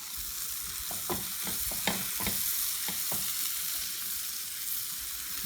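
Flour-coated mushrooms sizzle steadily in a frying pan, the hiss continuous throughout, with soft scraping and clicking as pieces are turned over, no talk.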